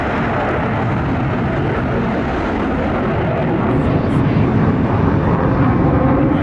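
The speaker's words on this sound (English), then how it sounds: "Thunderbird's taking off right now." USAF Thunderbirds jet taking off at an airshow, a loud continuous broadband jet roar that builds slightly toward the end, with a voice speaking over it.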